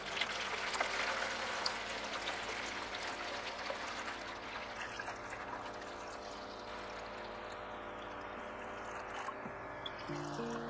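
Water pours steadily into a Nelson Garden Harvy 6 hydroponics kit reservoir, a continuous close trickle and stream running for about ten seconds with no talk.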